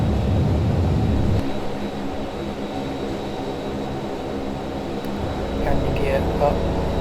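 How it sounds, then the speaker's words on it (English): Simulated Dornier 328 turboprop roaring steadily down the runway on takeoff in the X-Plane 12 flight simulator, a constant engine drone with a faint high whine, easing slightly as it goes. "The aircraft wants to move about on the runway."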